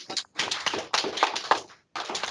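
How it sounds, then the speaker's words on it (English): A small audience claps for a student reader in short, uneven bursts of close, sharp hand claps, separated by brief pauses. "Let's get a big round of applause for Mr. Corbin Landry, everybody."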